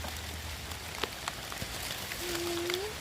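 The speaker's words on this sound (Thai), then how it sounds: "ฝนเริ่มตกแล้ว" Rain falls steadily on surfaces outdoors, a soft, even patter with scattered distinct drops, fairly faint, and a brief tonal whistle near the end.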